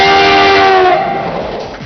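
A train horn or whistle effect marks a transition in a Hindi TV news segment: a loud sustained tonal blast holds for about a second, then fades into rumbling rail noise, with no voices.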